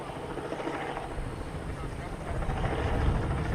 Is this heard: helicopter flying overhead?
yes